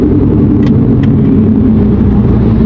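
A VW Golf 7 GTI Nürbspec laps the Nürburgring circuit, its engine a loud, steady interior drone of low rumble with constant road noise and a couple of faint high ticks.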